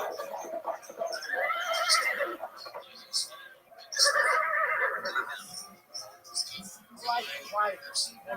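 A horse whinnies with high, wavering neighs in bursts, heard amid people talking and laughing nearby.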